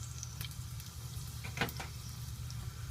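Onion rings frying in oil in a home kitchen give a soft, steady sizzle with faint crackles and a small pop, close but quiet, and no voices.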